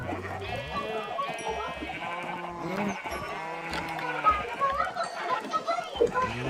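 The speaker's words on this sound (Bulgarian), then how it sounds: "Две малки крави." Cows moo in Minecraft, with several drawn-out, low, bleating calls that overlap one another while someone talks over the game sounds.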